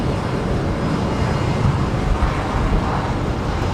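Virgin Fokker 100 jet in special livery at Brisbane Airport, a brief, fairly loud steady engine rumble with rough low-end wind-like texture and no distinct changes.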